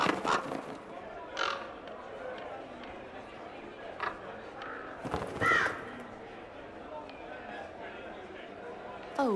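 Crows cawing in Dragon Age Inquisition, a few scattered harsh calls at moderate distance, heard under ongoing character dialogue.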